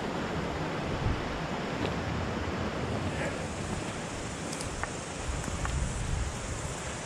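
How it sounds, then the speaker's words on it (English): Main river beside a remote bush hut in New Zealand, a constant loud broadband rush of flowing water close by, steady throughout with no talking. "the main river."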